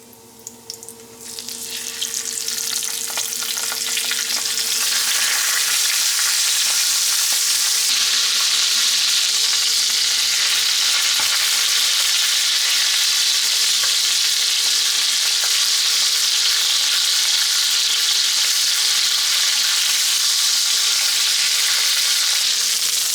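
Steady, loud sizzling of quail frying in a hot pan, a continuous crackling hiss that swells in the first seconds and holds without talk.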